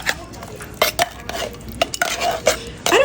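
Metal spoon scraping and clinking against a dish while scooping chili onto nachos, several quick bright scrapes and taps in an irregular rhythm, close and fairly loud with no voices.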